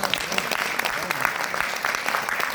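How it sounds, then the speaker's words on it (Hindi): Loud, dense applause from an audience at a Hindi poetry gathering, sustained steadily through the whole stretch with crowd noise mixed in. "बहुत एक बार जोरदार तालियां"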